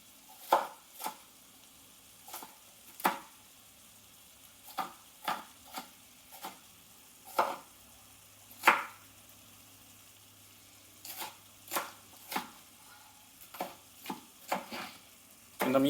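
A knife chopping red capsicum into small pieces, sharp distinct chops in an irregular rhythm with short pauses, fairly close and clear against a quiet background.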